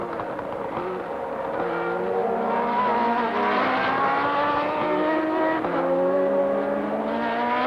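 Gilles Villeneuve's race car roars at high revs, the engine note climbing and dropping through gear changes. A steady wash of crowd noise sits underneath.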